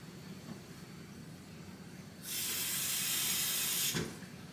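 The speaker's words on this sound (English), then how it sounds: "So I'm going to add the last quarter of water." Water from a tap pours into a measuring cup in a short, steady hissing burst of about two seconds that stops abruptly, over a quiet room with no voices.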